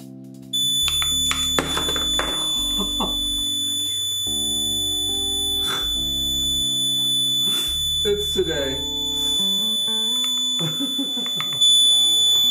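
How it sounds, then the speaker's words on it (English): A building fire alarm under test sounds with a steady, piercing high-pitched tone that runs continuously while people talk over it. "They're testing the fire alarms."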